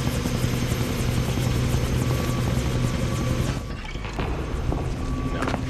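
Helicopter rotor in a video game chopping loudly and steadily with engine whine, briefly dipping before returning, close and continuous without speech.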